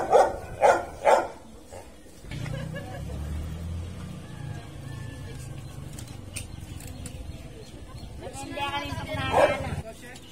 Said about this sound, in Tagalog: Laki ng aso.